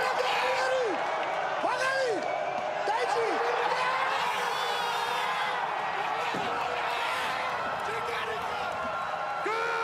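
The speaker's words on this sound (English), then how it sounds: "The entire crowd going nuts" Arena audience at the 2017 World Weightlifting Championships, men's +105 kg final, roaring and cheering continuously, with whoops, whistles and shouts rising over a dense, loud crowd wash throughout.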